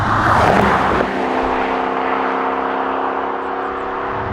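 A Jaguar F-Type P450 with a supercharged V8, loud on a road drive, surges hard at first, then settles into a steady droning engine tone with a smooth, even whine.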